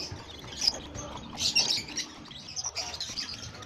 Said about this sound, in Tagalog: At dito naman sa kabilang kulungan, mga magto 2 weeks old na mga bibi.